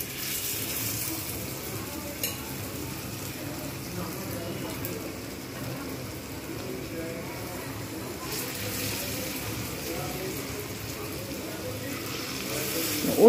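Lentil fritters (dal bora) frying in hot oil, a steady soft sizzle and crackle running throughout at moderate level, with faint speech-like sounds in the background.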